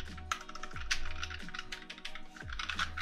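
Keys clack in quick irregular bursts on a Keychron K3 mechanical keyboard, close and crisp, with a few heavier thumps between strokes and no voice.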